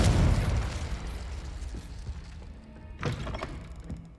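A Confringo blasting spell goes off in Hogwarts Legacy with a heavy booming thud that fades over a second, then a sharper crackling burst follows near the end.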